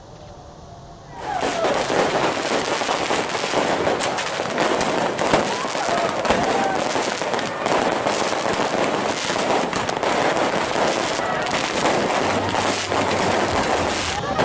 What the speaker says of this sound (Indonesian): Petasan dan kembang api ini terus mewarnai langit Kota Makassar, Sulawesi Selatan saat pergantian tahun malam tadi.